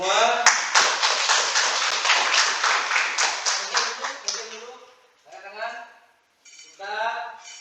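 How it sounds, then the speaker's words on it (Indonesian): A classroom group claps together at the end of an Indonesian language lesson, a burst of brisk, close applause that fades out after about four seconds, followed by voices talking. "Tepuk tangan semua."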